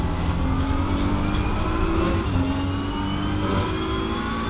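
BMW race car in Assetto Corsa Competizione powering out of a corner with wheel spin, its engine revving loud and steady, with rising harmonic tones and constant mechanical roar throughout.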